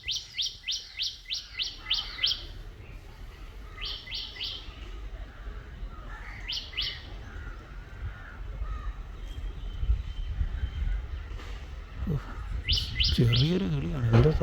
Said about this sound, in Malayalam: ചെറിയൊരു കിളിയാണ്, എന്താ സൗണ്ടൊന്നും